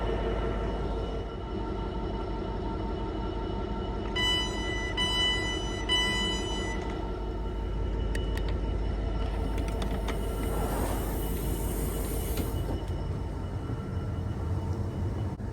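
Steady low rumble and rattle from inside a moving train at 3 AM, with a constant hum and occasional higher whines and squeaks, no voices.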